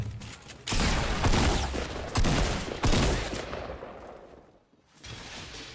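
Gunfire in the Fortnite video game, several loud rapid bursts of shots with echoing decay, separated by short gaps, then a quieter tail.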